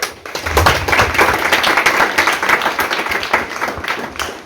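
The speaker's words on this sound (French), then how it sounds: "Je vous demande de l'applaudir, s'il vous plaît." A graduation-ceremony audience applauds a graduate, dense and fairly loud clapping from many hands that swells in and holds steady before tapering at the end.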